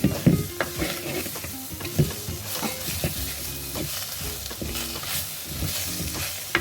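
Cherry tomatoes and spices sauté in a pan over low heat, with a steady soft sizzle broken by repeated scraping stirs at an uneven rhythm, close and moderately loud, with no voices.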